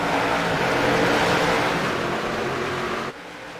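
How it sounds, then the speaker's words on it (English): Jr Late Model race cars accelerate at Myrtle Beach Speedway in a racing game, giving a loud, continuous engine roar that eases slightly near the end before dropping off. "Green flag back out, and Austin Edwards is on the loud pedal."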